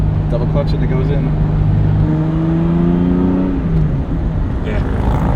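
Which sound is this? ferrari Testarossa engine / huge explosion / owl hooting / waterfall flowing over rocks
ferrari Testarossa engine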